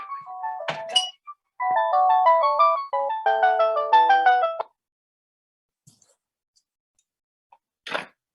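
A mobile phone ringtone plays a bright, repeating electronic melody in bursts during a biochemistry lecture, flanked by a few soft thumps and then quiet.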